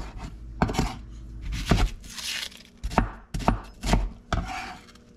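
Tomatoes are chopped for a habanero fish ceviche, a string of about eight sharp knife strikes on a cutting board in an uneven rhythm, close and clear with no talk.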